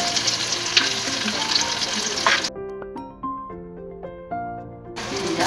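Cashews, pistachios, almonds and spices sizzle loudly in a pan as they fry with stirring. The frying is interrupted by a short stretch of tonal sound before the sizzle returns.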